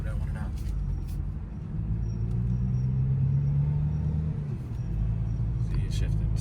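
A car engine drones at low pitch, rising as it accelerates and then dropping as it shifts gear, while people talk over it inside the cabin.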